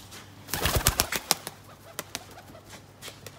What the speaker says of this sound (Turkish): Bakın güvercin geliyor.